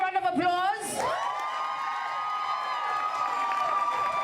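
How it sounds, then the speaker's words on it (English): A crowd at a Women in Business event in Middleburg cheers and whoops, with a shrill rising whoop early on and then a steady wash of cheering and applause that holds for several seconds. "Come on, show a round of applause."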